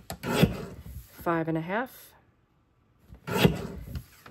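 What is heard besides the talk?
paper trimmer cutting paper for a page kit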